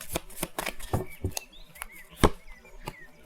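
Tarot cards being shuffled by hand for a reading, a run of crisp flicking and slapping riffles with irregular rhythm, close and fairly quiet, with no talking.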